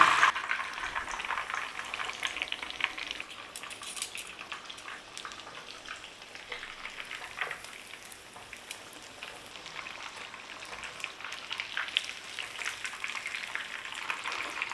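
Steady crackling sizzle of chicken frying in hot oil, continuous and fairly close, with no voices.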